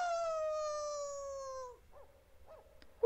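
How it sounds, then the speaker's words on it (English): A Great Dane in the animated film 101 Dalmatians lets out a long, clear, steady howl that slowly falls in pitch, followed by a few short, softer yelps and whimpers, close and alone. "Ooh, Great Dane."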